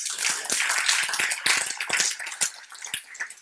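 A small audience claps at a corporate results event in Kenya, sparse overlapping hand claps at moderate distance, somewhat irregular and thinning toward the end.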